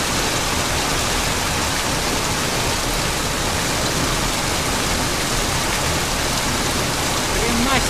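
Heavy rain mixed with hail pouring down in Lutsk, a loud, dense, unbroken roar of hissing downpour that stays constant throughout.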